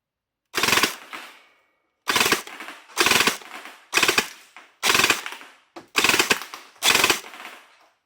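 BLG M16 gel blaster fired over a chronograph: seven loud, close, sharp cracks, each with a short decaying tail, spaced roughly a second apart after a brief silent start.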